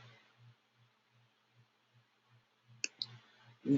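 A few sharp mouse clicks near the end, heard close over a faint rhythmic low pulsing in an otherwise quiet room while working in Salesforce.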